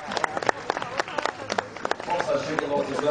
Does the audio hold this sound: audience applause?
yes